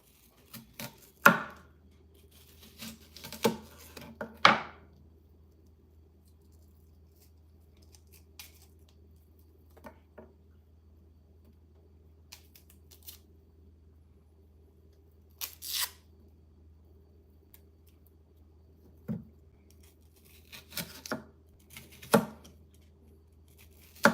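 A knife cuts a piece off while taco beef is being prepared, giving sparse, close chopping and tearing sounds, a cluster at first and then isolated cuts separated by long quiet gaps.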